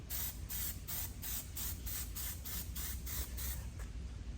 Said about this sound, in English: I'm just going to do simple black spray paint.